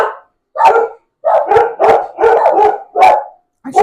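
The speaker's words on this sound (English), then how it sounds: "So now he's barking. He's woofing back at them." A long-furred house dog barks and woofs at someone at the front door, six or seven loud, close barks in uneven bursts separated by short silences.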